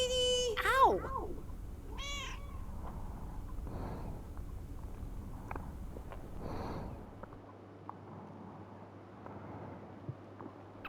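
A cat meows in a PS5 lake video game: a few meows in the first seconds, then quieter game ambience with some talk over it.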